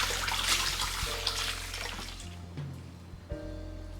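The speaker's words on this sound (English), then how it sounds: "Lightly wash the cabbage and bean sprouts." Cabbage and bean sprouts are washed in water, with running water and splashing close by alongside a low background hum, then a softer stretch with small clinks near the end.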